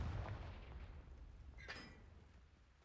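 The fiery Confringo spell blasts in Hogwarts Legacy, opening with a deep booming burst that slowly fades, followed by a sharp crackling flare partway through. The whole effect sounds fairly quiet, with no voices.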